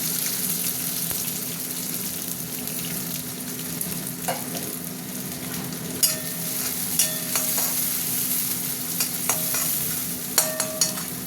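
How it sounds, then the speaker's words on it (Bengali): Onions sizzle in hot oil with dried red chillies and bay leaves for a chicken curry, a steady close crackle broken by sharp clicks of a utensil stirring the pan, with no talk. "পেঁয়াজটা একটু ভাজা ভাজা হোক।"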